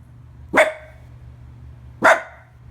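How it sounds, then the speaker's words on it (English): Two sharp, loud dog barks in the middle of the night, about a second and a half apart, each ringing briefly against a quiet background. "A woman filmed her dog barking in the middle of the night at something"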